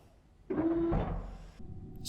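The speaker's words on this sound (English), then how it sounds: "The only sounds you can hear are your own breaths." Astronaut breathing during a spacewalk in the video game Kerbal Space Program: a close, fairly loud breath swells for about a second, then a quieter, steady hiss continues with a faint tonal hum, and no one speaks.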